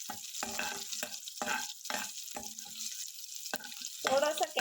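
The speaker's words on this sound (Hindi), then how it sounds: "हमारा मस्टर्ड क्रैकल हो गया है और हमारा जीरा भी थोड़ा सा लाल हो गया" Mustard seeds and cumin crackling in hot oil for Goan patal potato bhaji, a series of sharp, spaced pops and sizzling bursts close by, with a louder frying rush at the end.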